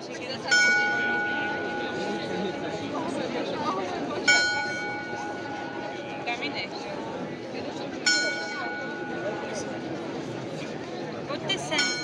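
Church bells in Prague strike the hour, three loud resonant chimes spaced about four seconds apart, over a murmuring street crowd and chatter.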